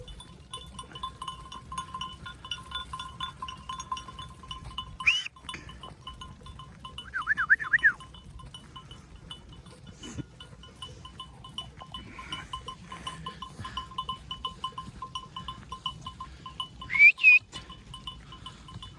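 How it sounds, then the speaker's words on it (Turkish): Occasional short sheep bleats, a couple of distinct calls spread apart, over a quiet outdoor background with faint ringing bells. "Koyunlar neşeli."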